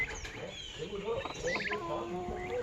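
Pet turkeys, a tom and hens, call from a backyard coop with short clucks and gobbling warbles, close by with brief overlapping voices and some talk nearby.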